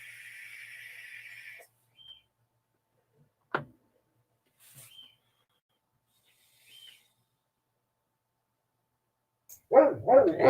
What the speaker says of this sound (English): That dog barking again.